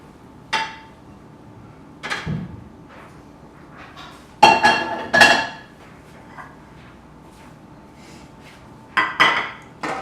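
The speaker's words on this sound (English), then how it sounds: "We're going to go ahead and just use your scraper to plate your eggs." A metal scraper plating cooked eggs onto a plate, giving several sharp clinks and scrapes of metal against the plate, spaced out and fairly close, with no talking.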